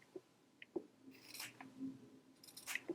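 Scissors trim the seam corners of a denim jacket during sewing, making several faint, sparse snips and crisp cuts spaced irregularly, close but quiet.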